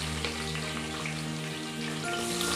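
Two large onions, sliced lengthwise, fry with fennel and green chillies for a banana flower biryani, giving a continuous, even sizzle that sounds close and fairly loud, with no voices.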